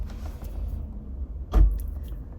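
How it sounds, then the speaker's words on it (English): A single car door thumps shut nearby, one low solid slam heard over faint engine rumble inside the car. "That car door."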